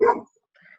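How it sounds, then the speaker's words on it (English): A single dog bark, short and close, followed by a faint higher yip-like trailing sound, brief and alone. "that's my dog"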